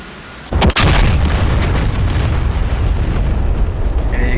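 Bombs from a Mirage 2000C in the DCS flight sim strike the target: a sharp, heavy boom near the start swells into a loud, sustained rumbling roar that slowly fades.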